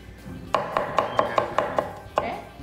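Onion being chopped with a knife on a board, eight crisp evenly spaced chops in quick rhythm with a brief pause before the last, close and clear.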